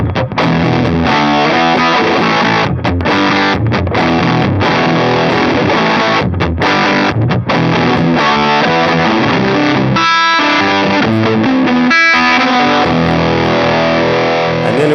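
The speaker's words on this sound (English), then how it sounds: "Comparing that with the pedal." A JHS PG-14 distortion pedal drives an electric guitar, giving a loud, thick, saturated tone with steady chords and riffs that carry through the clip with brief gaps between phrases.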